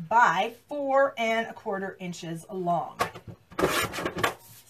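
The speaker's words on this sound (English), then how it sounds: "that's what you're hearing there is my paper trimmer" A paper trimmer slices cardstock in short, brisk scraping bursts near the end, following a stretch of a woman's close, steady talking.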